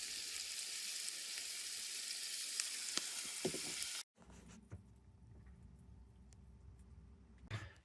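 A steak sizzles steadily in a hot pan inside a van for several seconds, then the frying drops away to quieter rustling and faint clatter.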